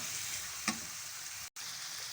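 Chicken karahi with ground coriander is stirred in a wok, giving a soft, steady sizzle with one brief scrape of the spoon, faint and continuous throughout.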